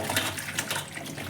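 Tap water runs in a steady, close splashing stream over mushrooms being washed for a mushroom gravy, continuous and fairly soft with no voices.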